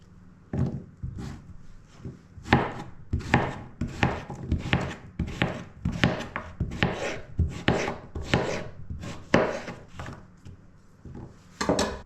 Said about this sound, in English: So I chop them down like that, and then I just then take my knife and go back across